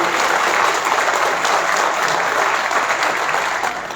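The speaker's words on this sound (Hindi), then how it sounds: "तो आप लोग इनके लिए जो तालियां डिजर्व करती है वो बताएं।" A conference audience of business correspondent women bankers breaks into sustained, dense applause, many hands clapping steadily at full volume throughout before easing slightly at the end.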